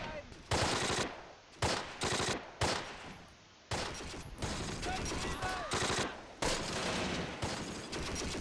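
Machine guns fire in the Close Combat wartime strategy game, sharp rattling bursts repeating in quick succession, loud and close, with one long sustained burst in the middle and brief gaps between volleys.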